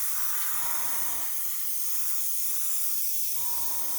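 An airbrush sprays Vallejo acrylic paint with a steady, close, continuous hiss. A low hum comes and goes at the start and again near the end.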